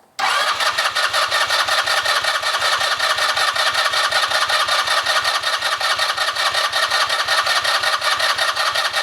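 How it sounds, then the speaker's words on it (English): The engine of a Polaris RZR 170 that won't start cranks on its starter in a fast, steady rhythmic chug that runs on for several seconds without catching, loud and close, with no talking. "one hand on the brake, the other one engages the starter"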